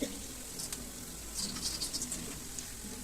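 Onions softening in hot oil in a pan for a poori meal, a soft steady sizzle with light crackling patter and occasional spoon stirs, close and fairly quiet.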